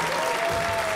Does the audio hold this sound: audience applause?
yes